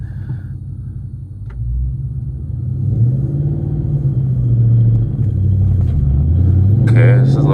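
Car with a stage 4 clutch pulling away in first gear over a hill, engine rumbling low and rising unevenly in revs, steady and close, with a voice briefly heard.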